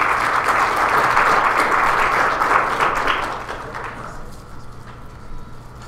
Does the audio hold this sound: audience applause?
yes